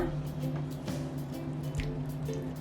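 Thick Kerala beef stew with coconut milk being stirred, soft wet squelches and drips up close, with a low steady hum behind the mixing.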